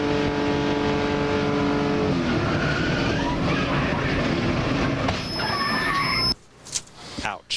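Onboard a NASCAR Goody's Dash Series race car in a 2001 race, the engine roars loudly at steady speed, then shifts and revs before the sound cuts off abruptly near the end, with a commentator talking over it.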